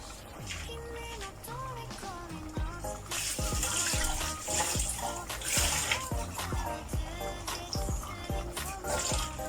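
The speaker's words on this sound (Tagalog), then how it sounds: "Lagyan ko ng konting tubig" Water pours steadily into a pot of cooking chicken curry, a continuous splashing rush over background music with occasional clinks.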